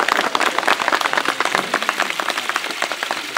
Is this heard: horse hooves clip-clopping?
no